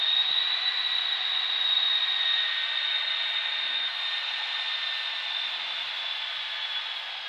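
Steady, loud broadband jet whine with a strong high-pitched tone from an L-39 Albatros jet taxiing, heard close and continuous for the whole stretch with no speech.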